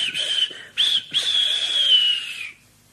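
Thomas the Tank Engine's steam whistle blows in a Trainz game, one long sustained shrill tone with a brief break near the start, loud and alone.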